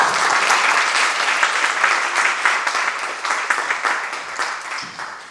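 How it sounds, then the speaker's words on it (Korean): Congregation at a Korean church joint deacons' dedication service claps to welcome a pastor to the pulpit; sustained, fairly loud applause with distinct individual claps that gradually thins and fades toward the end, no voices. "우리 나오실 때 환영하는 마음으로 박수 한번 다시 하겠습니다."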